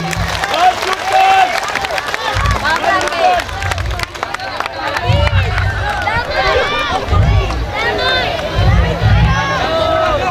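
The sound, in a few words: audience applause for the regent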